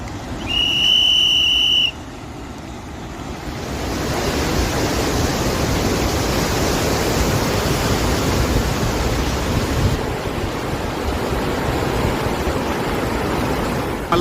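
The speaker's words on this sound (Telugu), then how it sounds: "అత్యంత భయంకరంగా సముద్ర కెరటాలు వస్తున్నాయి. సముద్రం అంతా అల్లకల్లోలంగా ఉంది." Violent storm surf pounds the Visakhapatnam beach near Tenneti Park during a cyclone, a loud, continuous roar of crashing sea waves and wind, opened by a brief high whistle-like tone.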